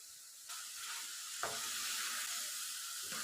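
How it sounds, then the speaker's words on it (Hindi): Masala frying in a pan for vegetable pulao gives a steady, close, bright sizzle throughout, with a faint scrape or clink partway through and no voices. "अब मैंने इस मसाले की बहुत ही अच्छी सी बुनाई करनी है, तकरीबन 1 से 2 मिनट के लिए"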